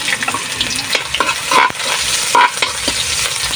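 Ginger sautéing in a pan, heard close and loud as a steady crackling sizzle. A spatula clatters and scrapes repeatedly as it stirs, and no one speaks.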